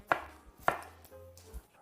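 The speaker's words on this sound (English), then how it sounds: "take 1 medium onion and chop it any way you like" Two sharp knife chops through a medium onion on a cutting board, well spaced and close, with a faint third tap near the end; no talking.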